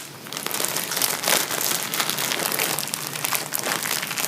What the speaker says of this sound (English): it's in the plastic bag. Let's see if I can open it up.